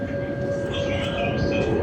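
A tram on Padova's SIR1 line runs with a steady, loud rumble and a sustained mid-pitched whine throughout, close by and continuous, with a faint voice murmuring underneath.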